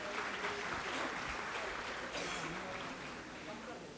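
An audience claps in a dense, sustained wash of applause welcoming a guest at a school society's anniversary ceremony, staying fairly even before tapering slightly toward the end.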